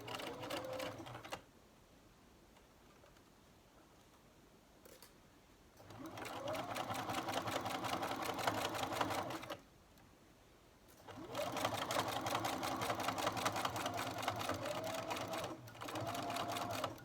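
A sewing machine stitches a seam on Burda 7062 trousers. It runs in two long bursts of rapid, even clatter separated by quiet pauses, close up, with faint talk in the background.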